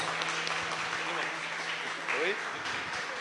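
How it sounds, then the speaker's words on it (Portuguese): Church congregation clapping after a prayer service at a Baptist church, a steady wash of applause heard from a distance, with voices mixed in and a brief louder shout near the end. "Dá uma salva de palmas bem forte para Jesus"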